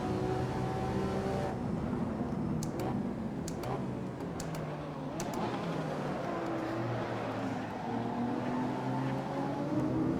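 Italian race car engines rev and roar in the Assetto Corsa racing game, with steady loud engine tone, rising and falling pitch sweeps and brief sharp upshift bursts throughout.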